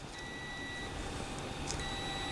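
A multimeter set to continuity testing gives a steady electronic tone as its two probes touch a conductive surface: two sustained beeps, one longer then a shorter one, close and clear above a faint background hiss.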